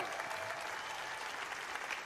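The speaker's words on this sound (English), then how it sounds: "this round of applause one more time is for all of you" Steady, dense applause from a crowd at a national youth basketball free-throw championship, continuous clapping throughout with no pauses, moderately loud and close.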